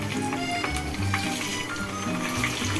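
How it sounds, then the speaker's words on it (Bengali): Marinated chicken for gravy chili chicken frying in hot oil over medium heat, a steady, close sizzle and crackle that runs throughout with no talking. "তেল গরম হয়ে গেছে, আমি এগুলো এবার ছেড়ে দেব।"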